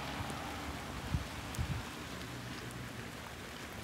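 Steady morning rain falls throughout in Naples Park, a soft broadband hiss with a few closer patters and drops hitting nearby.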